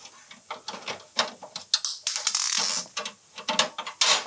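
Screws being taken out of an RTX 4080 graphics card with a screwdriver or driver, giving a series of close, quick ratcheting clicks and mechanical turning bursts that come in irregular clusters, with no talking.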